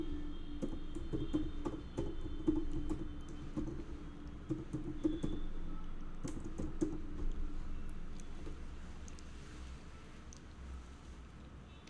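Typing on a computer keyboard to enter an email address into an online order form, with soft, irregular key clicks in quick bursts over a low steady hum, fairly close and moderately quiet.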